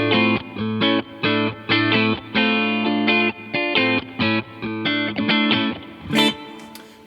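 Electric guitar in a clean tone played through a Line 6 AM-4 amp modeler, a steady series of bright plucked chords and notes, loud and close, with a short higher flourish near the end.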